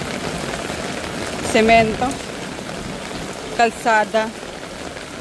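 Heavy rain pours onto paved road in a steady hiss that fills the whole clip, while people talk briefly over it in two short bursts.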